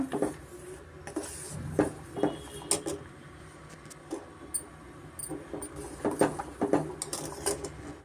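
Mango custard mixture being stirred in a pan as it thickens, giving irregular scraping and clinking knocks of a utensil against the pan, close and moderately loud, with no talking.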